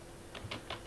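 A few quick keystrokes tapped on a computer keyboard, soft and close, in a short irregular burst.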